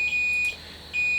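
A battery voltage monitor alarm at low cell cutoff sounds two loud, sharp high-pitched beeps separated by a short gap, close and with no talking.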